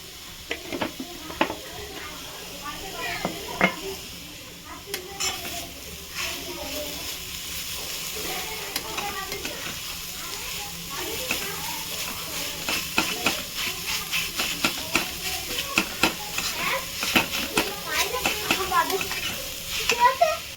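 Beetroot fries in a pan with a steady sizzle and hiss, while a spoon scrapes and stirs in irregular clinks and rattles throughout. The sounds are close and continuous, and faint voices talk in the background.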